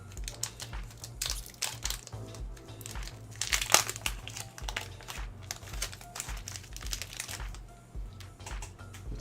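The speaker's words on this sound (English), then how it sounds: "I can't hardly rip these packs, so might have to get scissors for these." Trading card booster packs, stubborn and hard to tear, ripped open by hand: steady close crinkling and crackling of foil wrappers with repeated tearing rustles, one sharper rip midway, no voices.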